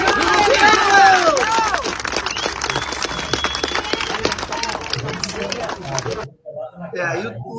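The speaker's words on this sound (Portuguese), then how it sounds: "Uma salva de palmas para o Clezão" A crowd applauds and cheers in tribute to Clezão at a memorial with a flower wreath, dense clapping mixed with voices and shouts, loud and close, before cutting off near the end.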